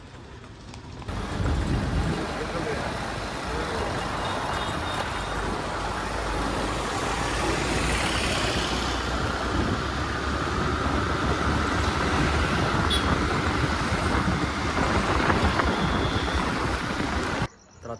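Vehicle on a road, steady engine and road rumble close by for the whole stretch, fairly loud and even with no talking.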